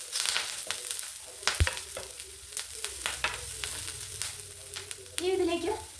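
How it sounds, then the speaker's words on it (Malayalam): Curry leaves sautéing in hot oil for an egg fry give a crackling sizzle with sharp spatula clicks and scrapes, and a brief voice is heard near the end. "ഇനി നമുക്ക് ഇതിലേക്ക് ഈ കറിവേപ്പില കൂടി ഇട്ട് കൊടുത്ത് കൊടുക്കാം കറിവേപ്പില കൂടി ഇട്ട് നന്നായിട്ട് വഴറ്റിയെടുക്കാം"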